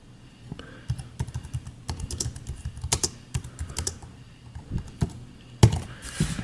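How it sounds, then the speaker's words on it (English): Keys clatter steadily on a Cherry KW7100 wireless keyboard paired with an iPad, the close, crisp clicks coming in quick irregular bursts with short pauses and no talking. "I'm just typing anything that comes to my mind right now"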